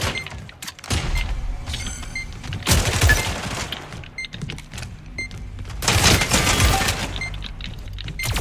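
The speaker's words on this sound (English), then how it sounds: "Flashbang." A flashbang grenade goes off in the tactical shooter game Spectre Divide, with two loud, crackling bursts a few seconds apart amid busy game noise.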